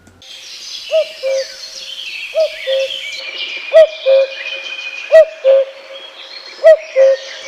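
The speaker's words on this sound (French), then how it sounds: "Du coucou quelquefois." A common cuckoo calls its clear two-note descending song, five evenly spaced pairs about a second and a half apart, ringing loudly over faint, busy chirping from other birds.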